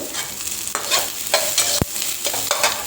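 Chopped onion, green chillies and capsicum fry in a pan, a constant sizzle broken by several scraping stirs and one sharp clink of a utensil, close and without talk.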